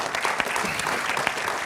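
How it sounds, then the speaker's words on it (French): Studio audience at a French comics talk show clapping, a steady, dense wash of applause from many hands, close and fairly loud throughout. "oui, vous pouvez applaudir."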